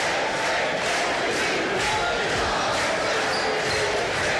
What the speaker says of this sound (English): Listen to the Auburn crowd.